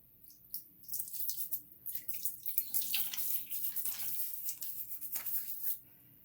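Water runs from a tap to wet a shaving brush, a soft, irregular splashing stream, quiet and close.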